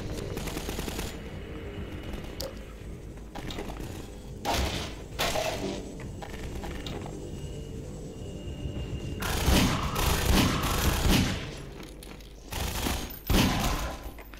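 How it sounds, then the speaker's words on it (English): Gun fired in the video game Half-Life 2: sharp, punchy shots and thuds in irregular bursts, several loud close impacts standing out over a dense background of game noise. "this gun's got a kick"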